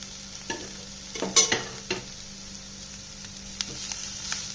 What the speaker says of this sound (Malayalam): നമ്മൾ വേവിച്ച് വെച്ച കക്കറിച്ച് ഇട്ട് കൊടുത്തിട്ടുണ്ട് ഇനി അവിടെ കിടന്ന് എല്ലാം കൂടി ഒന്ന് ഫ്രൈ ആയി വരട്ടെ